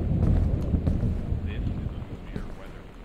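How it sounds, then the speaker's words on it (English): A thunderstorm rages outside in the video game Gone Home, a deep, continuous low rumble of thunder and wind that swells early on and slowly fades. "So that storm is still raging outside."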